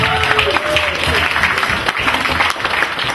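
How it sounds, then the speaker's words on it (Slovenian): An audience applauds after a cosplay presentation at a convention. Busy, close clapping rolls on without a break, mixed with scattered voices and crowd noise. "aplavz. aplavz!"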